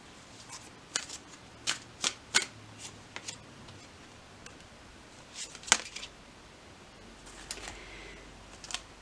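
A deck of tarot cards is shuffled in sharp riffling bursts and snaps, several quick flurries spread over a quiet room with faint handling noises in between.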